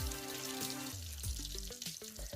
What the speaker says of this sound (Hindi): आपको जो आवाज़ आ रही है वो इस टाइम फ़िश फ्राई हो रही है